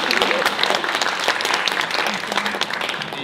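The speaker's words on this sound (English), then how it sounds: "Thank you for starting the clapping" Audience applause fills a high school reunion general assembly hall, steady dense clapping from a crowd lasting throughout at moderate volume, with faint voices mixed in.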